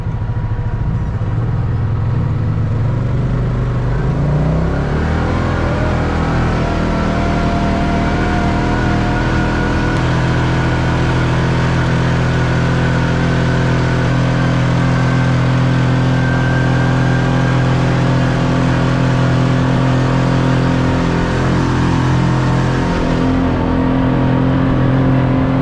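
A Jeep engine revs hard while climbing a sand chute, a loud continuous roar that rises in pitch early on and then holds a strained, steady drone near the microphone.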